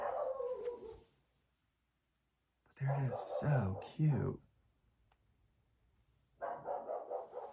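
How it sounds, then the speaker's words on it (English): A dog yelps and barks in a quick burst in an indoor room, close by, between stretches of someone talking and a short silent gap. "I swear he'll bark at anything."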